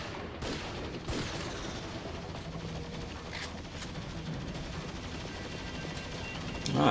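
Pistol gunfire in the third-person shooter Vanquish, a dense run of rapid shots and impacts over a busy battle din, steady and moderately loud throughout.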